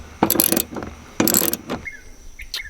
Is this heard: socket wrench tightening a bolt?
yes